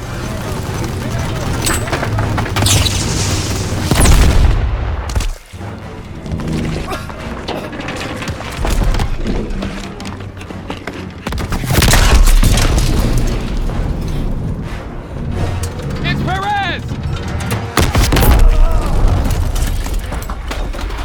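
WWII-era 150mm artillery guns firing in the Call of Duty: WWII game, heavy booming blasts and crashing impacts landing repeatedly amid dense battle noise, with shouted voices mixed in.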